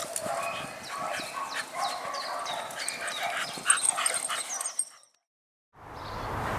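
A dog barks repeatedly in a quick run of sharp yaps over several seconds, then the sound cuts to near silence before a dull background returns.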